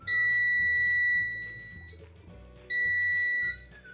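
Two loud, sustained electronic beeps from a continuity tester detecting a shorted diode in a PC ATX power supply, the first lasting about a second and a half, the second shorter after a brief gap, over faint background noise.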